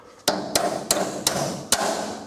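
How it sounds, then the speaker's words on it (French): A hammer strikes a metal swing-gate axle five times in quick succession, crisp, close, ringing knocks against a nylon bushing on the gate post, with no voices. "Un petit coup de marteau."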